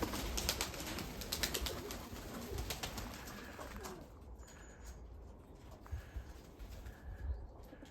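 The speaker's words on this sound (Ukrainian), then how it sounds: "Ось голубок краснорябий" Pigeons, including Budapest and Mykolaiv breeds, coo softly outdoors in low repeated murmurs amid a background of bird chatter and faint clicking, quiet and close with no one talking.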